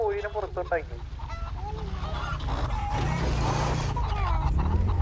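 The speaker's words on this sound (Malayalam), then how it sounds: "ഇത് കോഴി പിടിക്കുന്ന പരിപാടിയാണ്" Chickens squawk and cackle loudly and repeatedly at close range while being caught for a meat shop, with scuffling and a few voices in the background.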